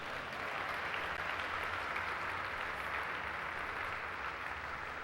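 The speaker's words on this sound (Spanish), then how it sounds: "Dele un fuerte aplauso al Señor." Church congregation applauding during a Spanish-language sermon, a steady, even wash of many hands clapping that holds at a constant level throughout, fairly distant and soft.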